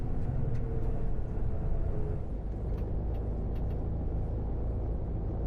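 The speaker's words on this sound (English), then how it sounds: "That engine sounds sweet, doesn't it?" A steady, low engine rumble drones close by, like a bus idling or cruising, even and continuous throughout.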